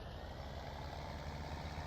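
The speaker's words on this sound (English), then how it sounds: "let's bring this truck back." A truck engine in a video game rumbles steadily as the truck reverses, a continuous low droning hum at moderate distance with no voices.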